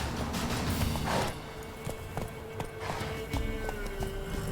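Rhythmic clip-clop of horse hooves trotting in The Witcher 3, steady and fairly close over an ambient outdoor bed.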